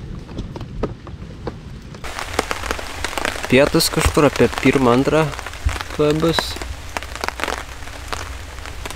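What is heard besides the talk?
rain falling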